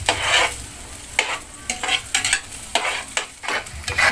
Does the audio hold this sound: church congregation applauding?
no